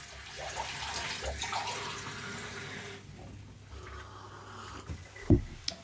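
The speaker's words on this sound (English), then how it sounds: "Might make a cup of water." Tap water running steadily into a cup, a continuous broadband hiss for the first few seconds that then softens, ending with a brief knock.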